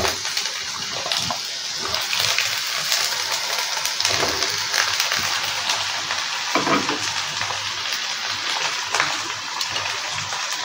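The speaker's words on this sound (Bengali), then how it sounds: "দেখো, এইবার এর মধ্যে বেগুনগুলো দিয়ে দেবো আমি।" Eggplant pieces go into a hot pan of oil with garam masala and green chillies for a fish-head dish. A steady, loud sizzle continues throughout, broken by the scrape and rattle of stirring.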